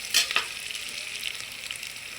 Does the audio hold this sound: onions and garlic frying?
yes